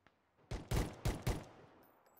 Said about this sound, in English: Getting him some warning shots.